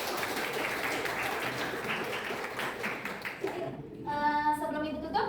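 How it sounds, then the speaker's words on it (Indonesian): Students applaud in a classroom, steady dense clapping for about three and a half seconds that fades out, followed by a short tonal sound over light background noise. "Oke, tepuk tangan."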